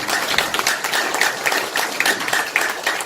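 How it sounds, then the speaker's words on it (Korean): An audience claps together at a 2019 New Year forum, a dense, steady patter of many hands with scattered sharper claps, filling the room for about three seconds. "한번 큰 박수 한번 쳐주세요"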